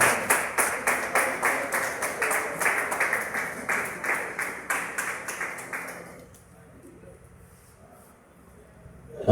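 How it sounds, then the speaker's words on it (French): An audience applauding a patriarch in rhythmic unison claps, roughly a dozen evenly spaced beats that continue for several seconds before stopping abruptly and leaving near silence. "Applaudissons très fort pour le patriarche."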